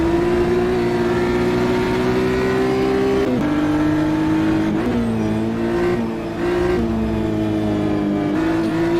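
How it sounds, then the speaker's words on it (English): A 2022 BMW M2 CS racing cup car in a sim racing game at Portland, engine droning loud and steady with rising revs, brief throttle lifts and shifts breaking the tone every few seconds. "Just listening to the revs, I'm pretty sure the tyres are pretty knackered because you can hear how much he's off the throttle"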